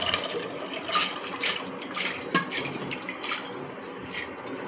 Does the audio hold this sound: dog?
no